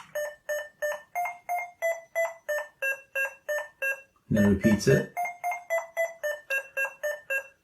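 Electronic beeps from a Sinclair QL computer repeat in a steady, quick rhythm of short notes, briefly interrupted by a burst of noise and a voice talking, then the beeping resumes.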